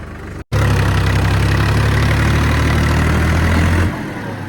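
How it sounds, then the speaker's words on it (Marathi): A tractor engine rumbles loud and close while crossing a river, a steady low drone after a sudden start that drops to a quieter level near the end. "आपल्या नदीतून ट्रॅक्टर घेऊन जायचे पाठीमागे ट्रॅक्टर चालले"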